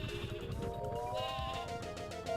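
The Sleepy Sheep item in Paper Mario sets off a wavering, musical bleating that rises and repeats over busy game music and effects.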